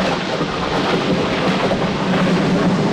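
Heavy rain pours in a dense, loud, steady hiss with a low rumble of thunder rolling beneath it throughout, close and continuous with no voices.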